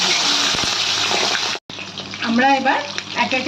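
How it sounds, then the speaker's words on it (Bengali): Pabda fish frying in hot oil in a pan give a steady loud sizzle that cuts out briefly, then returns more softly while someone speaks over it. "পাবদা মাছগুলো ভালো করে এপিট ওপিট করে ভালো করে ভেজে নেব"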